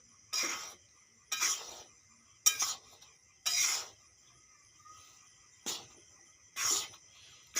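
A utensil scrapes around a wok on a lit gas stove in short, regular strokes, each about half a second, separated by near silence.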